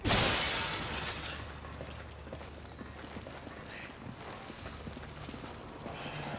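Glass shatters loudly in Resident Evil 5, a bright crash that opens abruptly and decays into scattered tinkling debris and ambient game noise over several seconds.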